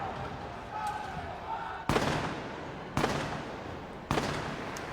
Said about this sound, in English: each of the guns fires 3 rounds